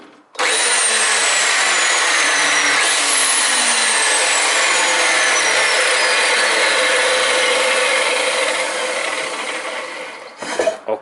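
A repaired angle grinder runs steadily after being switched on, a loud continuous whine holding for about ten seconds before winding down, with a short clatter at the end.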